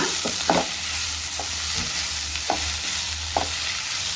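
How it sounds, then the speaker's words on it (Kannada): Field beans and onions fry in a pan with a constant close sizzle, and a spoon scrapes and stirs now and then. "ಅವರೆಕಾಳು ಮತ್ತು ಈರುಳ್ಳಿ ಎರಡು ಸ್ವಲ್ಪ ಫ್ರೈ ಮಾಡ್ಕೊಳ್ಳೋಣ"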